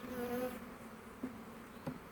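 Honeybees drone steadily at the hive, a continuous close buzz with a few louder individual bees passing near, and no voices.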